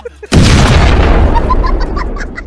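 A single loud, sudden blast from a gun or cannon bursts out close by, then decays into a long rumbling tail with faint ringing tones.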